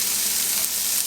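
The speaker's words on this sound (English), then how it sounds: "I'm going to head and add in my onion right in there, and we're just going to cook this onion down" Onion sizzling in olive oil in a pan, a steady close hiss of frying for risotto with peas and bacon, with no talk over it.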